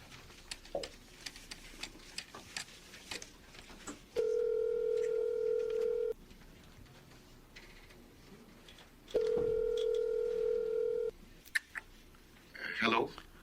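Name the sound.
telephone dialing and ringing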